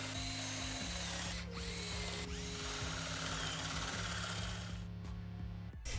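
A power drill bores holes in cherry wood, whining steadily up close with pitch shifts as the bit bites and eases, cutting off just before the end.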